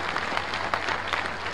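Audience applause at an evening event in Lucknow honouring the chief minister on the eve of Atal ji's birth anniversary, a steady dense patter of many hands clapping throughout the short stretch, fairly close and without speech.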